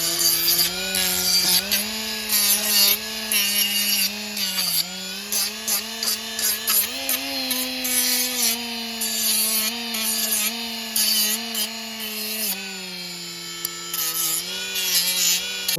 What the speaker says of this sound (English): Now I'm going to take the other sander and just try to clean up some of the edges.